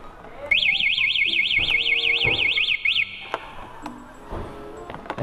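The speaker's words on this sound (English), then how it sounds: "Ayan, naka-alarm pa." A 200cc ATV's anti-theft alarm blares nearby with a loud, rapidly warbling siren tone for about three seconds, followed by a few short beeps and clicks.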